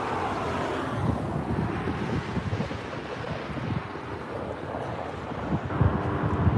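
Strong gusty wind buffets the microphone at an outdoor plane-spotting spot by LAX runway 24R, a steady loud broadband roar with rumbling low gusts throughout and no clear aircraft.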